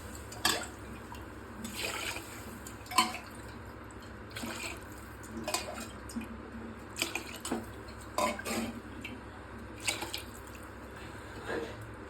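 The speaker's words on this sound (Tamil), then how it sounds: "இப்போது எட்டு கிளாஸ் தண்ணி ஊற்றிக்கணும்" Water trickles and drips into a metal pot as eight glasses of water are added for ghee rice, with intermittent splashes and clinks of cookware over a steady faint background hiss.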